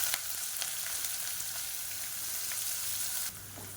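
Chopped onions with green chilies and curry leaves sizzle steadily in hot oil in a pan, a dense continuous frying hiss close by, easing slightly near the end.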